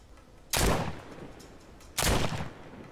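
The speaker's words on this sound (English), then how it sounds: "That was a nice shot." Two loud, sharp gunshots in the VR zombie game The Walking Dead: Saints & Sinners, spaced about a second and a half apart and each with a brief decaying tail, over quiet ambience.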